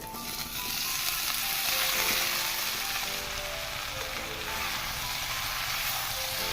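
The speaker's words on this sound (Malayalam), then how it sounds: "ഉള്ളിയും മുളകും ചക്കയും നല്ലോണം മിക്സ് ചെയ്യാം നമുക്ക് എല്ലാവരും കൂടി" Jackfruit with onion and chili frying in a pan, a loud steady hiss of sizzling oil with faint scraping as it is stirred, no voices.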